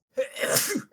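A single close sneeze, short and forceful, heard alone during a studio conversation.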